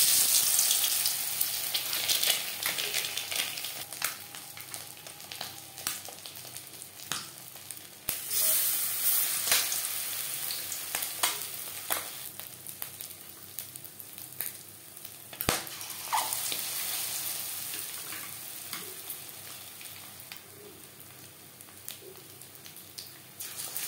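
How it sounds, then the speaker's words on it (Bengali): Batter-coated eggs fry in hot oil for an egg chilli dish, producing a continuous close sizzle with scattered crackles and pops and no voices. "একটা সাইড ভাজা হয়ে গেলে উল্টে দেব।"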